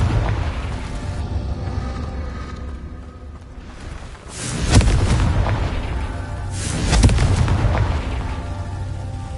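Two heavy blasting-spell explosions from Hogwarts Legacy, each a deep booming burst followed by a rumbling decay, loud and close over a low ambient game hum.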